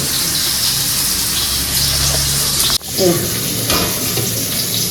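Ground fennel and radhuni paste frying for shukto, a loud, steady sizzle up close, with a sudden brief drop and clatter partway through before the frying continues.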